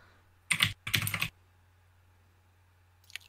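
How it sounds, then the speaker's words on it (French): Computer keyboard typing in two quick bursts of rapid key clicks close to the microphone, then silence and one brief final tap. "Celui qui tape sur son clavier, là."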